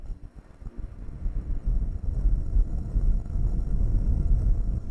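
Gusty wind buffets the microphone with low rumbling bursts that build and grow stronger, with no voices heard.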